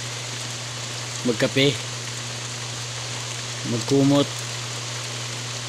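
Steady rain hiss fills the background while a voice speaks in two short bursts over it.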